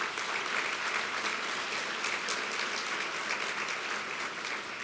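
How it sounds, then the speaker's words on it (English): Steady, dense audience applause for honorees at a National Philanthropy Day event, continuous clapping from a large crowd without talking. "Let's give them all another round of applause."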